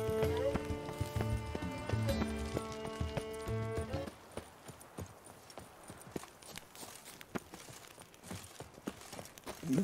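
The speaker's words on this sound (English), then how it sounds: "Whoa there, Roach" A horse gallops in The Witcher 3: Blood and Wine, with rhythmic hoof clip-clops on the ground after a few seconds of game music fades out, then continuing steadily and fairly close.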